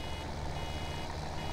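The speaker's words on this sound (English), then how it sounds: "Just gonna sit there and beep at me." A vehicle in Farming Simulator 17 emits a steady reversing beep over a low engine hum, moderately loud and without talk.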